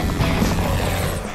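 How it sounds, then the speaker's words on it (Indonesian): A helicopter flies over desert terrain near Cairo in Serious Sam 3: BFE, its rotor thumping in a loud, steady close drone with no talk. "Aku first time main helikopter"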